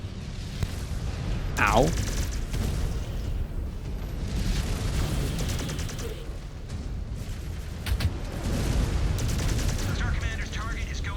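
Missile explosions in MechWarrior 5: Clans, heavy rumbling blasts and gunfire rolling across the clip, loud and layered with a dense battle din, with one brief spoken word.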